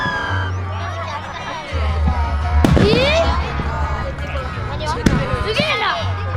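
Fireworks bursting at a fireworks festival in Takasago, with sharp bangs and a rising whistle over a low steady hum, while people talk and exclaim nearby.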